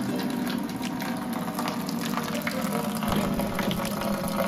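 Salt water runs from a spigot fitted to a brew trash can, a steady rushing, gurgling fill heard close and continuously throughout.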